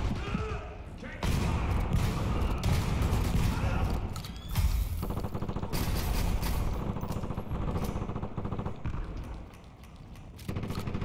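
Shotgun blasts and other gunfire ring out during a fast firefight in the video game Dirty Bomb, with dense continuous shooting, thuds and impacts, loud and close, while a player talks excitedly over it.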